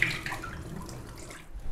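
Water is poured off rinsed rice, a faint, short splashing trickle heard close by.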